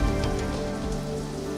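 Heavy storm rain pours down steadily with a dense, continuous hiss of drops striking surfaces, loud and close throughout with no voices.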